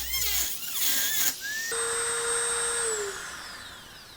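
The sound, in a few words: cutoff wheel cutting a channel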